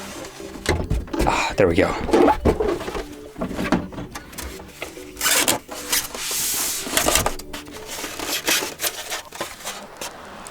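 Thrustmaster T.Flight Full Kit X box being opened, with cardboard and packaging rubbing, rustling and bumping in irregular bursts close by, while someone talks over the handling.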